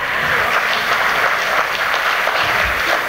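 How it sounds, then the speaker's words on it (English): Audience members at a souvenir launch ceremony with dignitaries applaud in a dense, steady clatter of hand claps lasting a few seconds, loud and close with no speech over it. "can we have some participation with some clouds, applauds, claps?"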